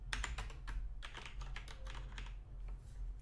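Steady typing on a computer keyboard while writing PHP code, with rapid, irregular close-up key clicks running throughout over a low background hum.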